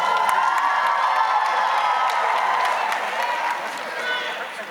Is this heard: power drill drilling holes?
no